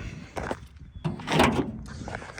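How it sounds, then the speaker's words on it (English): The hood of a 1975 Jeep CJ5 is lowered and shut with a single heavy metallic thud, preceded and followed by light rattling and handling noises close by. "Let's put the hood back up."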